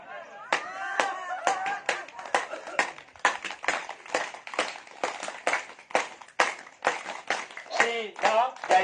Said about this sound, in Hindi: चलिए अब ताली बजाएंगे